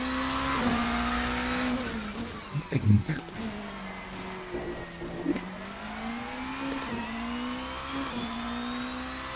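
Porsche 963 race car engine in Assetto Corsa, a sustained, varying engine whine that rises and falls through gear changes, with brief tire noise in the middle and a commentator speaking over it.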